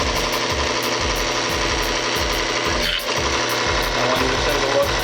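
A lubricity test machine running Mobil SHC 634 synthetic circulating and gear oil under added pressure gives a loud, continuous mechanical grinding with a fast rhythmic pulsing and a brief dip partway through.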